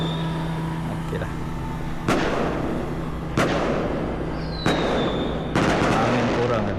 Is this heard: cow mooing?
no